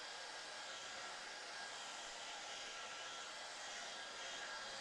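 A hair dryer blows over a watercolour painting, a steady, even whooshing roar held throughout, fairly quiet, with no talk.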